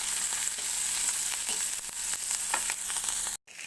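Green tamarind chutney with jaggery bubbles and sizzles on the stove, a constant close hiss with faint stirring taps, ending in a sudden brief silence.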